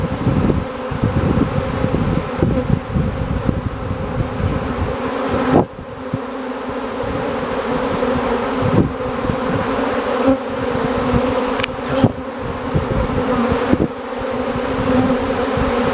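Dense, continuous buzzing of a large honeybee swarm arriving at a nuc hive up close, steady and loud throughout with occasional rustles and bumps.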